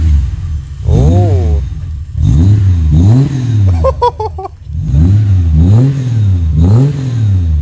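Ford AU Falcon straight-six with Pacemaker extractors revving hard in repeated rising and falling blips, loud and close, with a short chirpy squeal in the middle.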